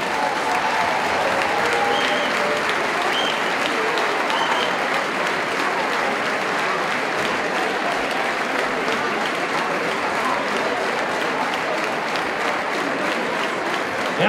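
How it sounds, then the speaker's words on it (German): Sustained warm audience applause fills a season-end party for an ice hockey club, a dense, even wash of many hands clapping at close range with no pauses. "Trotzdem ein warmer Applaus"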